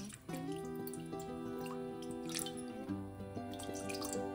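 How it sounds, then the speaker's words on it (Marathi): Water pours into a metal steamer pot for dhokla, its pitch rising steadily as the vessel fills, close and unbroken for a few seconds with no voices. "आता इथे पाणी टाकू"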